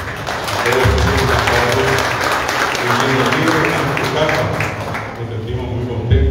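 Audience applauding musical accompanists at a Guarani language and culture event, steady dense clapping throughout with some voices and low music-like tones mixed underneath.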